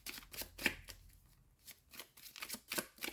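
A deck of tarot cards is shuffled by hand, close and quiet, in a run of quick papery riffling bursts with a short pause in the middle.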